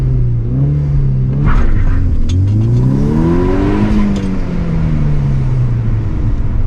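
A modified 2012 MK6 Volkswagen Golf R launches and accelerates hard, engine pitch climbing through a gear, then a shift and continued strong pull, loud and close.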